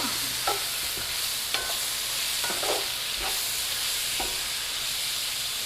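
Turnips and rainbow chard sizzle steadily in a skillet, with occasional scrapes and clinks of a utensil stirring through the vegetables, close and continuous.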